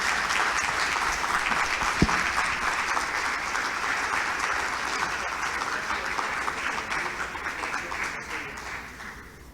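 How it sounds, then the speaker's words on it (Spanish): Strong, sustained audience applause at a cardiovascular medicine symposium hall in Buenos Aires, dense clapping from a large crowd that holds steady and then gradually tapers off near the end. "les voy a pedir un fuerte aplauso para Isela"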